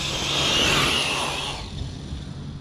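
An Arrma Mojave 8s RC car with a Castle MMX8s system making a speed pass on grass, a loud high motor whine that swells as it nears and then fades away.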